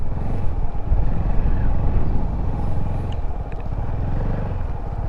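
A motorcycle ridden in tight circles by a learner rider, its engine a steady low rumble buried under heavy wind buffeting on the microphone, holding fairly even throughout.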